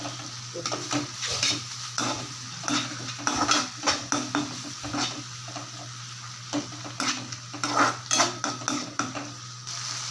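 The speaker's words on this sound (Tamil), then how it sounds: "இது நல்லா இதில் கலந்து விட்டுடலாம்" Ginger garlic paste being stirred into sautéed vegetables in a cooking pan, a spoon scraping and clinking against the metal in an irregular rhythm over a steady soft sizzle, close and fairly loud, no voices.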